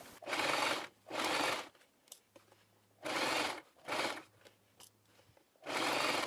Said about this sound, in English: continue on sewing down the length of your fabric